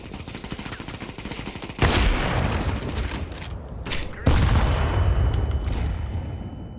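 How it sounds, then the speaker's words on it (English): Repeated grenade blasts and bursts of gunfire in a multiplayer shooter, with two loud booming onsets that keep the firefight dense and continuous throughout, close and heavy, with no talking. "I just got grenaded like 9 times"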